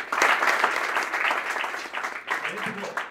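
A burst of applause from a group, steady clapping with some voices mixed in.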